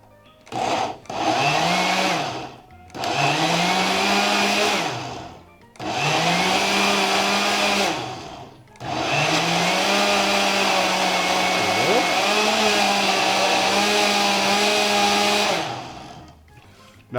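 A blender whirs loudly in four bursts while chopping vegetables for gazpacho, short pulses first and then one long continuous run, with the motor pitch dipping briefly as it chops.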